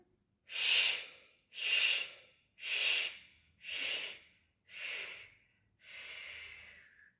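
Stepwise inhalation in a breathing exercise: six short, forceful, hissing breath bursts in a steady rhythm, close and clear, the last one longer and softer.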